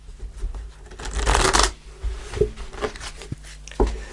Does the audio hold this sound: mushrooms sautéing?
no